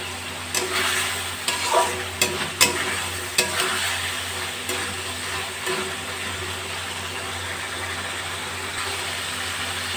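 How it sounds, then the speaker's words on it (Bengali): Fried potatoes tip into cooked masala in a pan on a gas flame for a potato and green jackfruit dalna. Sharp clatters and stirring thumps come early, then settle into a steady sizzle over a low hum. "এবার আমি ভাজা আলুগুলো দিয়ে দেব।"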